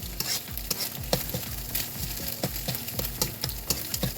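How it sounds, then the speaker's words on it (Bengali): Noodles being stir-fried with vegetables in a pan, a continuous sizzle broken by frequent clattering scrapes and knocks of a spatula against the pan in an irregular, busy rhythm. "এই যে এখন সবজির সাথে মিশিয়ে দিচ্ছে"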